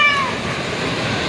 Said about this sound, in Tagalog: yan ang pusa namin